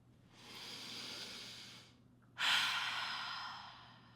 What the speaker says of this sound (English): take the deepest breath you've taken all day